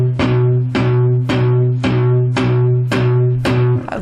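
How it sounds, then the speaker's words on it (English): Palm-muted electric guitar strings played as a steady run of seven short, chunky plucks at an even pace, loud and alone with no talking. "only touching the strings a tiny little bit"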